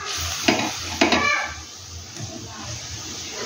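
Cauliflower kofta balls drop into simmering curry in a pan, with two soft splashy thuds early on, followed by a low, continuous sizzle and bubbling.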